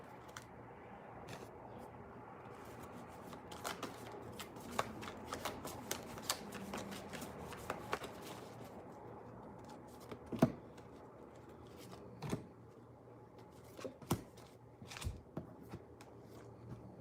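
Angel cards shuffled by hand close up, quiet riffling and slapping bursts repeating irregularly, with sharper taps as the deck is squared, in an otherwise silent room.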